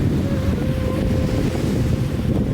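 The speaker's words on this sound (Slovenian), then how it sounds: "Sredozemsko morje." Mediterranean Sea waves wash onto a sandy beach in Cyprus in December, a loud, continuous roar of surf mixed with heavy wind buffeting the microphone, with no talking.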